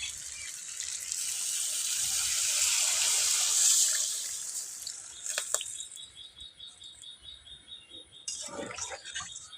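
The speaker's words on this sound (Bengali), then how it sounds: "এর মধ্যে পরিমাণ মতো পানি দিয়ে দেব।" Water is poured into a pan of chicken curry, making a steady splashing rush that swells and then stops, followed by quieter clinks and faint insect chirping in the background.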